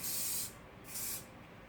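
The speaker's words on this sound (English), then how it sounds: "I'll give it one last spray of hairspray." Two short hissing bursts of an aerosol spray, close and fairly soft, separated by a brief pause.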